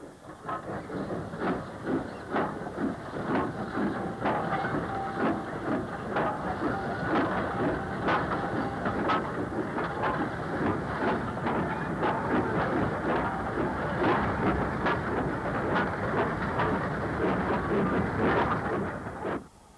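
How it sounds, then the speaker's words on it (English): A Class 504 electric unit on the main line near Crumpsall, Manchester, passing a looped freight train, a loud continuous rumble with a rapid run of wheel clicks over rail joints, close by and sustained. "On the main line near Crumpsall, another 504 unit passes a freight that has been looped."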